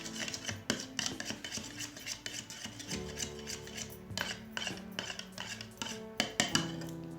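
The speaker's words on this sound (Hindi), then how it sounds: "अब इसको भी मिक्स करते हैं।" An egg hair mask is whisked and stirred in a bowl, with a spoon scraping and clinking against the sides in quick, uneven strokes, close but faint, with no voices.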